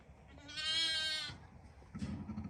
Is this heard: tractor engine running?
no